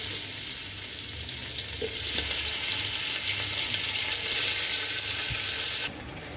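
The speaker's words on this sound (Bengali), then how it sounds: "এখন হাই হিটে আমরা গরুর মাংসগুলি এটাতে ভেজে নিব।" Beef pieces frying over high heat in hot oil in a pan, a steady soft sizzle and crackle throughout that drops off suddenly near the end.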